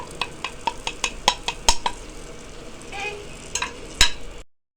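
Spices and red chili powder crackle and sizzle in hot oil for tempering Punjabi kadhi pakora, punctuated by repeated sharp clinks of a spoon against the pan, close and fairly loud.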